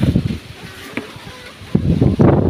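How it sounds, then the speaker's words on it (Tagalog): Gusty wind in a farm field buffets the microphone in loud, rough bursts, rising and falling, with a voice speaking faintly underneath. "Lakas talaga ng hangin."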